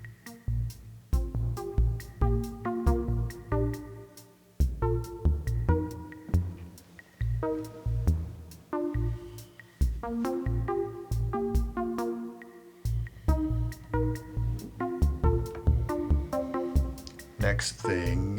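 A Lifeforms SV-1 synth patch fires in pulsing, rhythmic notes over a deep bass pattern, its envelope triggered by combined gates from a Cellz module, producing a melodic modular noodle, steady and close without speech.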